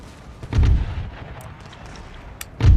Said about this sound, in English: It's quite a combination of explosive shells and the stuff.